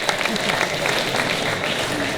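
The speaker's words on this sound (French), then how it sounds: "Donc on peut les applaudir." An audience at an InsaLan cosplay costume contest applauds, a dense, even wash of clapping that holds steady for a couple of seconds, with a crowd murmur underneath.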